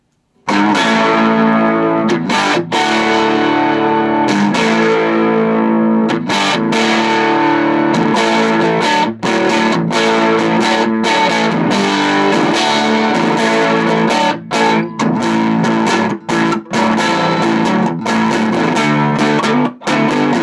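Distorted electric guitar on both pickups plays sustained chords and riffs through a 1960s Beltone AP-14 tube amplifier, loud and continuous with brief pauses between strums.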